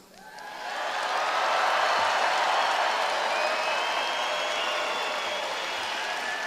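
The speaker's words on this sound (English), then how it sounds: "Can we give a big round of applause for our veterans?" Crowd at an election eve rally in Manchester, New Hampshire applauds veterans, a dense, loud roar of clapping and cheering that swells within the first second and holds steady, with faint whistles and whoops rising above it.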